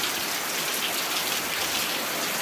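Steady rain without thunder pours down in northeastern Brazil, an even, dense hiss of drops hitting surfaces with no rumbles or pauses.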